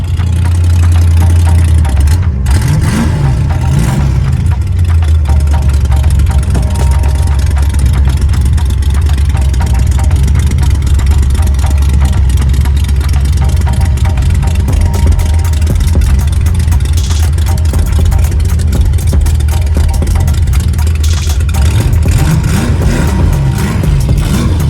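The V8 exhaust on a Fox body car idles in a deep, loud, close rumble that holds steady throughout, with a slight swell near the start and near the end.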